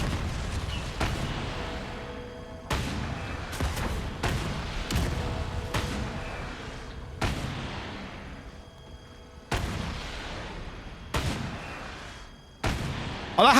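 Rocket launchers fired repeatedly in Resident Evil 4 Remake, a string of loud sharp blasts every second or two, each followed by a rumbling decay, with no talk.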